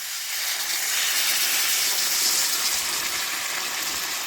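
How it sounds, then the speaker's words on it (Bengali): Water being poured into a pan of curry makes a steady, broad hissing gush, close and fairly loud, swelling slightly in the middle and continuing evenly to the end. "এবারে দিয়ে দিচ্ছি পরিমাণ মতো জল।"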